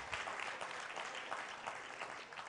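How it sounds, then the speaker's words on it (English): A church congregation gives a sustained round of hand clapping in praise, dense and steady for the whole stretch at moderate loudness, with no clear voices above it. "Give him a hand clap of praise."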